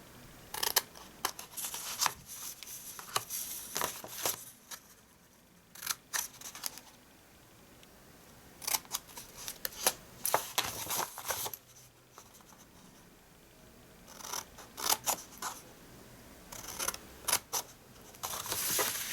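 Scissors trim thin corners off gift-wrapping paper, giving faint, crisp snips and papery rustles in uneven clusters with quiet pauses between, close by and soft.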